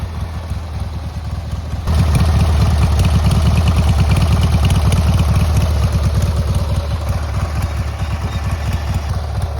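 An 18HP hydrostatic MTD Yard Man (Craftsman) riding mower engine, a barn find, idles loud and close just after its first start, a steady rapid chugging throb that swells in level after a couple of seconds.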